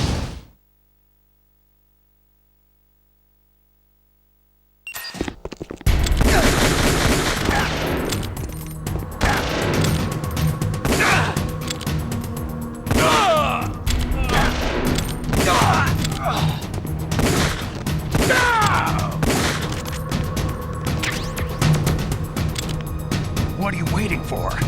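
Rapid gunfire and bursts of shooting in the video game Metal Gear Solid The Twin Snakes, loud and continuous after a silent opening, with game voices shouting over the firefight.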